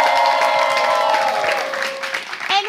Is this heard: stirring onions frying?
no